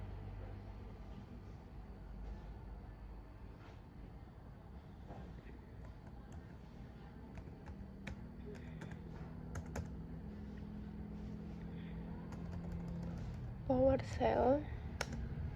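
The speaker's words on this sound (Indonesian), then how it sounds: "Lalu kita ketik lagi" Keys tapped on a computer keyboard while entering PowerShell commands, with soft, scattered clicks under a quiet voice and low background hum, ending in a brief louder burst.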